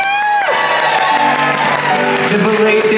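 A cruise ship show audience cheers and whoops loudly at close range, a dense crowd roar with shouted voices riding over it throughout.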